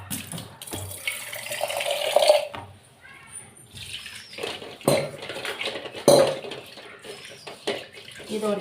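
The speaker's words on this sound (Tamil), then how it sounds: "இப்போ இதை கொஞ்சம் கழுவி இந்த தண்ணி எடுத்துப்போம்." A kadai pan being rinsed under a running kitchen tap, water splashing and spattering with sharp metallic clanks and scrapes of the pan, close by and uneven.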